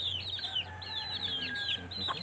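Pet chickens at a rural home cluck and chatter in repeated short, fairly quiet calls over a low background hum.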